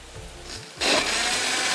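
A blender motor kicks in abruptly after a short quiet pause, crushing ice and mint leaves for a cold drink with a loud, steady, close whirring roar that holds to the end.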